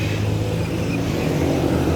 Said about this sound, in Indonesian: Nah ini bis barusan.